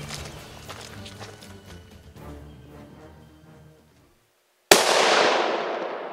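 A single loud, sharp gunshot fired at a black bear in the Canadian woods cracks out after a moment of near silence and is followed by a lingering rumbling echo.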